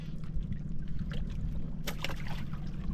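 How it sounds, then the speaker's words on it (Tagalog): A small fishing boat passes on rough sea water, its low engine rumble steady with splashing and lapping water close by. "Dumaang maliit na bangka mga kadol."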